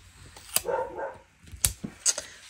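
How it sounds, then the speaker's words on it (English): A dog barks indoors at home, giving three sharp, fairly loud barks spaced about half a second to a second apart with quieter household noise between them. "We want to stop the dog from barking because the kids are home"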